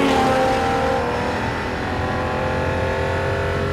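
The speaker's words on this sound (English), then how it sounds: "How very British to go endurance racing with a great big V12." A loud V12 engine of a Jaguar XJR-9 endurance race car at Daytona roars close by, holding a steady high-pitched snarl with a whining harmonic edge, no voices.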